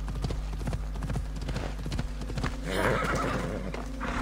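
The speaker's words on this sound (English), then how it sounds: "Oh yeah, look, there's my horse." Horse hooves clip-clop steadily through a neighing whinny in Assassin's Creed Odyssey, a continuous game soundtrack with a low ambient drone beneath, rising into a brighter burst near the end.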